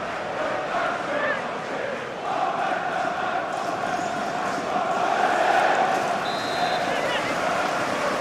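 Stadium crowd noise from an FA Cup match between Newcastle and Chelsea in FIFA 23, a steady roar with swells of cheering that holds throughout at moderate level, no clear commentary on top.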